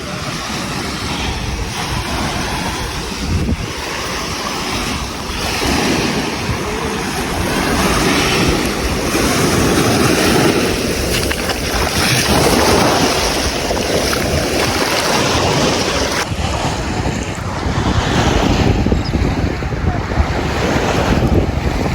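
Ocean waves break and wash continuously on a beach, close and loud, with heavy wind buffeting the microphone and the surf swelling and easing in slow surges.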